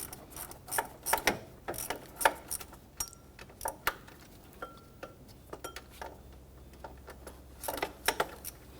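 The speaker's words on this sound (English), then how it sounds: "I'll go ahead and put our ratchet on there." A ratchet snugs the alternator bolts on a 2011-2015 Kia Sorento 2.4L: quick, quiet, repeated ratcheting clicks and metallic clinks in uneven bursts, close to the mic, with no voice.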